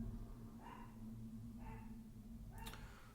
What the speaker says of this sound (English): not sure if you can hear my dog barking in the background